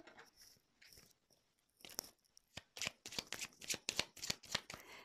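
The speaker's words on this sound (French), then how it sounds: "je vais prendre d'autres cartes" Tarot cards are handled and then riffled in a series of crisp, close shuffling bursts that grow quicker and louder, with a quiet start of light card handling.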